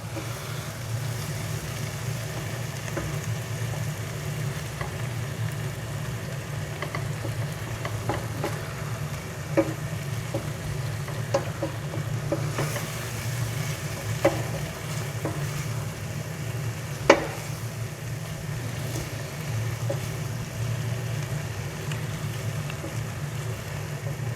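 Onions cook gently in a pan with olive oil spread for mushroom risotto, a soft steady sizzle broken by a few faint clinks and scrapes of stirring, close and unhurried throughout.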